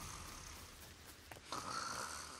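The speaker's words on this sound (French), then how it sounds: "Quelqu'un qui ronfle." A character snoring in the LEGO Fortnite video game, a soft, faint rasping breath that swells louder toward the end, with no talking.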